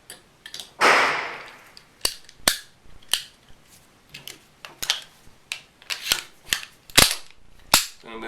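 Glock and XD polymer-frame pistols, freshly lubricated, are racked and dry-fired: a longer sliding rasp near the start, then a steady series of sharp, close metallic clacks and clicks with short pauses between them.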